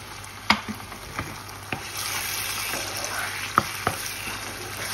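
Concentrated and peeled tomatoes with garlic and ginger sizzle in a hot pan, with a steady frying hiss and scattered sharp clacks of stirring.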